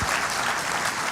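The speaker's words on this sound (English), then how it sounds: "let's give a huge round of applause to Susan Mowbray for her presentation" Audience applause after Susan Mowbray's presentation at a State of the Island economic event: a dense, steady wash of many hands clapping, close and even throughout with no voices over it.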